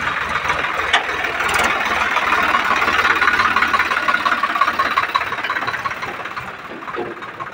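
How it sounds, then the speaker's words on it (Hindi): A Swaraj 744 new model tractor engine runs with a loud, rough diesel chug, holding steady and then fading toward the end as the tractor moves past. "इस साइड से जा रहा है अपना स्वराज 744 न्यू मॉडल का ट्रैक्टर"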